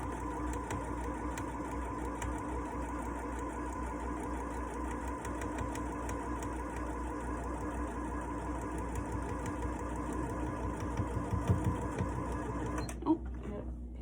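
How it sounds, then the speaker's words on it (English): A sewing machine runs steadily, stitching together the two pinned halves of a simple baby blanket, with a continuous close mechanical whir that stops abruptly near the end. "So now all that's left to do is sew them together."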